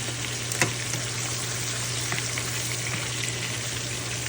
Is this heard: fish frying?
yes